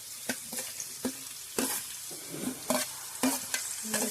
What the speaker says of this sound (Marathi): कांदे भाजून घ्यायचो मस्त पैकी असो गोल्डन ब्राऊन.